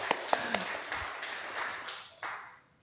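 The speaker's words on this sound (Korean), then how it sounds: "우리 박수 한번 하시겠습니다." A congregation at a Korean Sunday church service claps briefly, a few sharp distinct claps at the start followed by a softer scattered patter that fades out within seconds.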